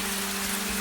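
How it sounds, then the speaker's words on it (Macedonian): Raindrops fall onto the ground in a brief, even patter that forms a steady, close hiss with no voices. "како капките паѓаат на земјата и прават троп"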